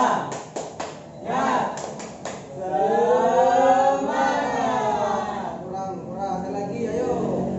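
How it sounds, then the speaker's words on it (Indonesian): A primary-school class performs a rhythmic tepuk semangat, sharp sets of claps opening into loud chanted voices, then more clapping mixed with the chant. "Kita akan melakukan tepuk semangat yang akan dipimpin oleh Vira."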